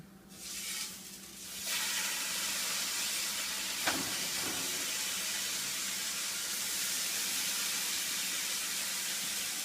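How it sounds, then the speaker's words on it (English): Two slices of bacon fry on a stove with a steady, even sizzle and hiss, joined by a couple of faint clicks and softer rustles early on. "I'm only going to cook 2 slices of bacon."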